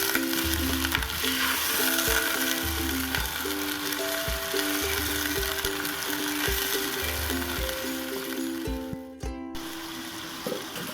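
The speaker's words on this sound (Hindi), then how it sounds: "चिकन को अच्छी तरह से फ्राई कर लेंगे।" Chicken pieces frying in a pan for a pumpkin and meat curry, a steady broad sizzle running throughout with intermittent tonal scraping and stirring, fairly loud and close, without talk.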